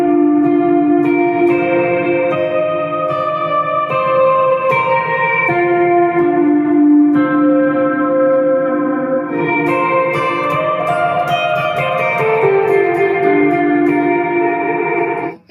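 Electric guitar played through a Mvave Tank G multi-effects pedal with reverb and the bass turned up for a fuller tone, sounding as a steady run of sustained, echoing chords and notes alone for about fifteen seconds.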